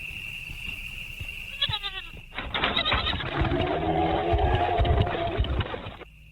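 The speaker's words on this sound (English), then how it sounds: "a lone goat grazes inside a wire pen" A single goat in a wire pen at night bleats with a wavering cry, then a louder, sustained bleat rings out close by over low background noise.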